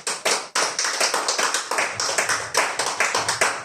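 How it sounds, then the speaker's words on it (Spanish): Rhythmic clapping from a church congregation, a steady stream of sharp hand claps, fairly loud and close, with no voices on top. "Dale un aplauso a tu Dios."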